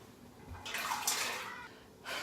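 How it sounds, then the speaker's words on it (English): Chopped carrots tip into a pot of water for soup, giving a soft splashing rush that swells for about a second and then fades, with a faint second splash at the end. "I'm gonna add it to the water and I'm gonna start it on medium-high heat."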